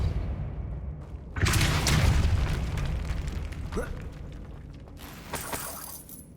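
In the video game Hogwarts Legacy, a Depulso spell lands with a sudden booming, shattering burst over quiet game ambience, then a sustained crumbling rumble and a later flurry of debris and crackle.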